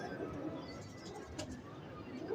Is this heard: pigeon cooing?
yes